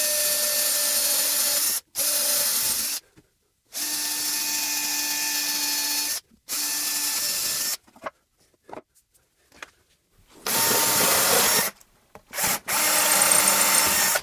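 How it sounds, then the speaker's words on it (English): A Bosch multi-purpose drill bit bores through a timber batten, and the power drill whines loudly and steadily in several separate bursts. Short silences and quieter handling noises fall between the runs. "being able to just drill straight through a timber batten and into a wall without completely ruining a drill bit is amazing"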